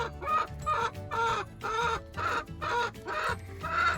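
Hens cluck repeatedly in short, rhythmic bursts close by, a chicken flock being fed lettuce outdoors in Norway, with no talking over the calls.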